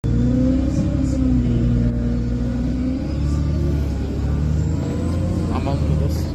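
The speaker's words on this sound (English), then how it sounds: "I'm on the bus now back to Grantham." A bus engine drones steadily from inside the cabin on the way back to Grantham, a low rumble with shifting revs and no gaps.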